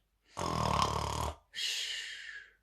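A voice imitates an elephant snoring in a children's story: one long nasal snore on the in-breath, then a short pause and a hissing breath out, close and clear in a quiet room.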